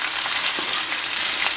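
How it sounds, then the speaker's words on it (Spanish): Vegetables frying in olive oil in a pan give a loud, close, steady sizzle with a bright crackling hiss throughout and no talking. "Voy a ponerle aquí un chorro de aceite de oliva y vamos a poner a freír"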